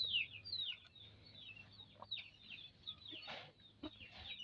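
Chickens cluck and squawk faintly nearby in scattered bursts, with one higher call at the start, over a low steady hum.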